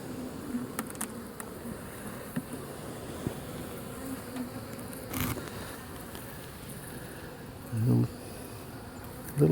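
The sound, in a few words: honey bees buzzing in a hive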